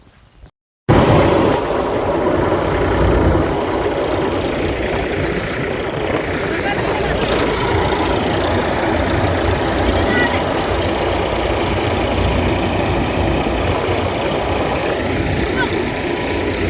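A loud, steady tractor engine drones close by, driving a thresher with a rough rumbling machine clatter while threshing pearl millet, continuous and unchanging throughout.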